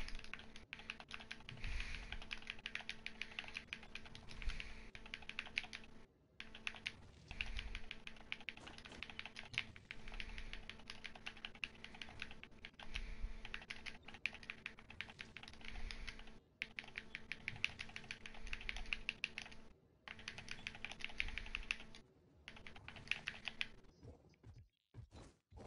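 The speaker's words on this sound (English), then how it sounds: "I need to type something." Rapid, steady typing on a computer keyboard, with clustered key taps and pauses running throughout, close and fairly quiet over a faint background hum.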